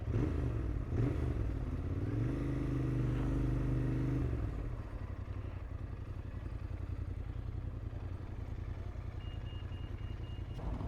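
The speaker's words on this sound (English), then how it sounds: "I really don't want to give this bike back. Listen to its sound." A Royal Enfield Interceptor 650 motorcycle engine runs close by, a rising rev for a few seconds settling into a steady throbbing idle, loud with no talking.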